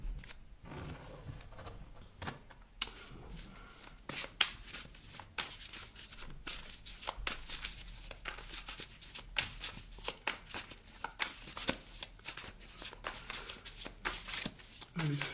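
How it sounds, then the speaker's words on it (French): Tarot cards being shuffled and spread out across a table, a long run of papery riffles, slides and soft flicks close up, with brief pauses between bursts. "je vais étaler les cartes et je vais vous en parler dans un petit instant"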